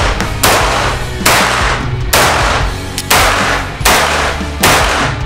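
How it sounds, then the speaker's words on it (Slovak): Six loud, sharp gunshots from a CZ Scorpion Evo 3 in 9 mm Luger, fired singly at a roughly regular pace close to the microphone, each crack trailing into a short reverberant decay. "To českého výrobcu CZ Scorpion Evo 3. Je to vlastne v kalibri 9 mm Luger."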